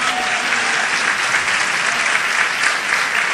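Loud, dense applause fills a church during a Portuguese-language sermon on fasting, a broad wash of many hands clapping together without pause, close and sustained for a few seconds.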